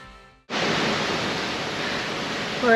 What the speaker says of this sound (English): look at this cyclonic weather